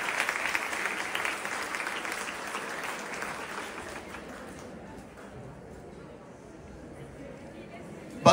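Applause from a large audience at a youth training camp, dense and loud at first, then thinning out and fading to a softer patter toward the end.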